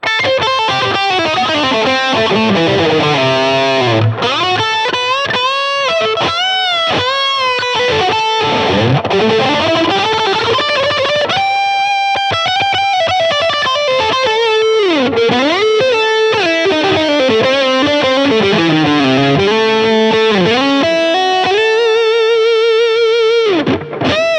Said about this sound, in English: I like an Elephant Man delay, and that's what you heard at the top.